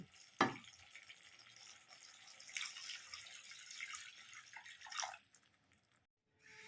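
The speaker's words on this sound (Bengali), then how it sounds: "এবার আমি দিয়ে দেব জল।" Water poured into fried mustard spice paste for Bengali mustard pabda fish curry, a sharp splash followed by a faint, steady trickle and sizzle, then a second brief splash before silence.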